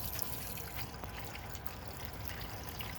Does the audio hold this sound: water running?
yes